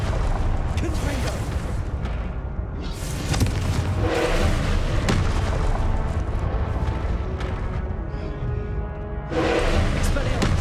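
Fiery Confringo spell blasts in Hogwarts Legacy burst repeatedly in heavy, booming waves amid continuous combat noise, loud and close, with a voice speaking over parts of it.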